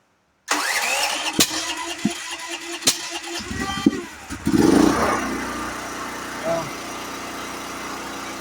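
A propane-fueled generator running on two 100 lb tanks gives a few sharp clicks and cranking bursts, then catches with a loud rough surge and settles into a steady close idle.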